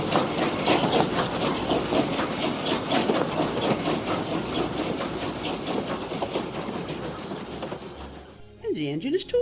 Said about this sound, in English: as we gather speed, we go over the maze of points and crossings in the station yard. Clickety-clack, clack, clack